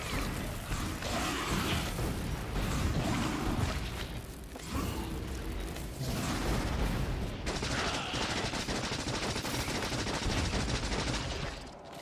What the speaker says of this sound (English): drop a bunch of grenades on them